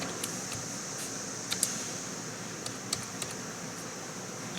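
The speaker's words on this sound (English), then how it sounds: "we're just going to type out number one dad." A few faint, scattered clicks of typing on a computer keyboard for a beginner laser engraving project, over a steady fan or air-conditioning hum in a quiet room.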